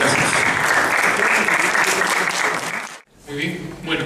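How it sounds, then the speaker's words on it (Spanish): An audience at a lecture gives a speaker a loud, sustained round of clapping that fades and stops, followed by a brief restart of sound as the applause settles. "recibamos nuevamente al doctor con un fuerte aplauso"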